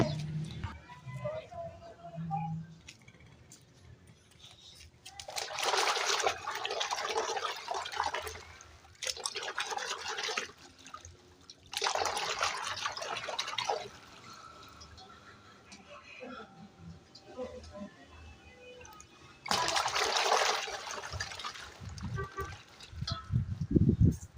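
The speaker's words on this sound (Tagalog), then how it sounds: "So ito na, nabanlaw na natin yung air filter." Water splashes and pours in bursts while a dirty air filter from a Yamaha Mio i125 motorcycle is rinsed, with several loud splashing runs separated by quieter gaps and drips.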